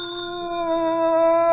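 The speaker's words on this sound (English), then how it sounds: "Okay, ring the bell, Philo." A single doorbell rings with a sustained, clear metallic tone that hangs and slowly swells, close by with no voices over it.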